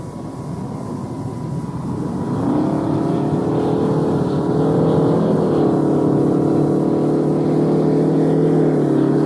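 Space Shuttle Endeavour rolls out on runway 33 at the Kennedy Space Center after landing, a loud steady roar with a deepening droning hum that builds and holds throughout.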